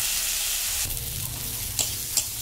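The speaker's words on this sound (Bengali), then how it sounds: "এবারে এটাকে ভালো করে ভাজবো" Leaves fry in a pan with salt and turmeric, a continuous close sizzle broken by a few stirring scrapes and soft knocks.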